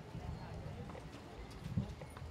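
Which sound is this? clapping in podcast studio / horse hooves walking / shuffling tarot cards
horse hooves walking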